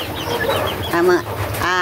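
Chickens cluck and murmur close by in a noisy setting during rain in Bicol, Philippines, with short bursts of clucking over a constant rough background.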